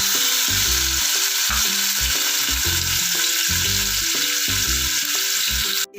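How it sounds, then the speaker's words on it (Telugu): Garam masala paste fries in hot oil in a pan, a loud steady sizzle running throughout, with a rhythmic pattern of stirring underneath and a brief drop right at the end. "ఆయిల్ హీట్ ఎక్కిన తర్వాత ఈ గరం మసాలా ముద్ద వేసుకుని ఫ్రై చేసుకుందాము."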